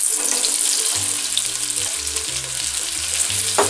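Pioppini mushrooms hitting melted butter in a pan, a loud, close, steady frying sizzle with a low hum underneath and a sharp crackle at the end, no talk.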